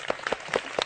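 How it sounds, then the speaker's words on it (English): Children in a classroom clapping, a few scattered, uneven claps close by, fairly quiet with no talking. "Clap, everybody, come on."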